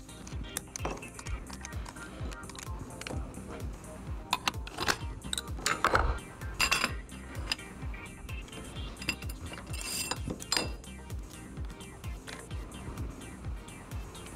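Hardware on an installed 12-inch Flexco belt cleaner is taken apart, producing a continuous close clatter of metallic clicks, ratchet-like ticks and small knocks, with no voices.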